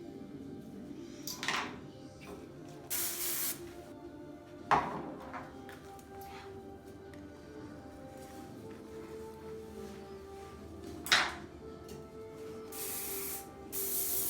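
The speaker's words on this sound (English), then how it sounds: "Flexible hold hairspray for the tees." Flexible hold hairspray misted onto hair being styled into a cheer ponytail, several short hissing sprays spaced out with quiet handling between them, close by and with no talking.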